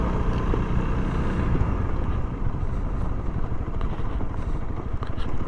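A Honda CRF300L dual sport motorcycle rides along a trail, its engine a steady, close, continuous rumble mixed with wind buffeting, with no break for the whole stretch.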